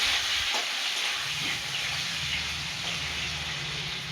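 Potatoes fry in hot oil with panch phoron in a wok, giving a dense, steady sizzle like rain on a surface, close and continuous, with faint low knocks underneath and no talk.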